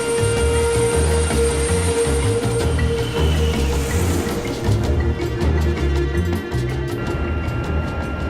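A 46-year-old DC-9 airliner in flight, heard from the cockpit jump seat on a leg to Nairobi, with a loud, constant engine and airflow roar, a steady hum and faint high whine underneath, no voices.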